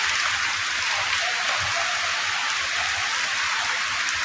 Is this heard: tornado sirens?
no